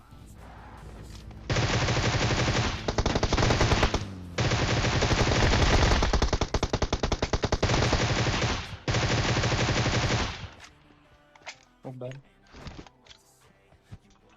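PUBG Mobile gunfire: long bursts of rapid automatic shots in several sustained volleys, loud and close, followed by a few scattered quieter in-game sounds.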